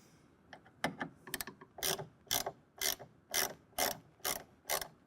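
A bolt being tightened into a well nut on a tonneau cover rail fitted to a 2024 Jeep Gladiator, heard as a series of sharp, evenly spaced ratcheting clicks, close and alone.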